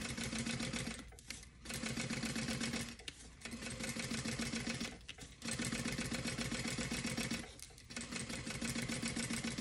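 Sewing machine topstitching a second row along a crossbody bag, using the earlier edge stitching as a guide; steady, loud whirring bursts of stitching, each a couple of seconds long, separated by four short pauses.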